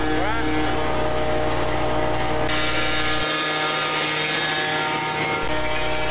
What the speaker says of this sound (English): Here the operator is actually turning the lower stop nut to force the spindle into the granite.